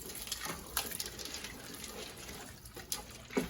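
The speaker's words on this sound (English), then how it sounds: "We're going to get some water. We're going to pour some water on it." Water pours into a pot for one-pot chili mac, a soft, steady trickle and splash with a few brief clinks, fairly quiet and with no talking.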